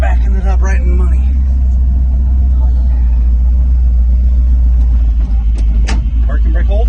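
A Dodge dump truck's engine labors at low RPM in a low gear, a loud, heavy, steady rumble close by, while someone talks over it early in the clip.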